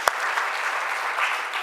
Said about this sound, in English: all of you deserve a big clap